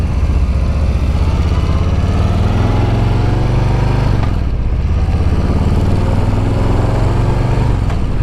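A 2021 Harley-Davidson Softail Standard motorcycle being ridden, its engine a loud, steady, close throbbing drone that dips briefly for a gear shift midway before pulling strongly again.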